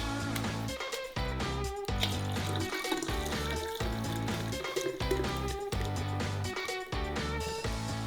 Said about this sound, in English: To make it fizzy, we add carbonated water.